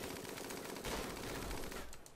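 Pistol gunfire in the video game RimWorld, fired at point-blank range against a mechanoid, heard as a short burst of rapid, dense shots over about two seconds with no talking.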